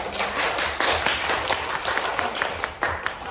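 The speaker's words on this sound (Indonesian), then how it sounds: "beri tepuk tangan untuk" Students in a classroom clap their hands together, a fairly close, steady burst of clapping with a few sharper individual claps standing out.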